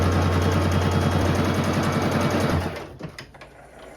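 A sewing machine runs a straight stitch along a side seam using stretchy thread at low tension, a steady rapid mechanical whirring that runs for a few seconds, then stops, leaving faint clicks and handling sounds.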